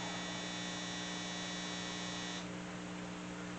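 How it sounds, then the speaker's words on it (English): A home clothes dryer's buzzer sounds a steady electronic tone signalling the end of its cycle, holding constant before a slight shift partway through, with a low background hum and no talking. "Sorry for the buzzer, that's my dryer's done."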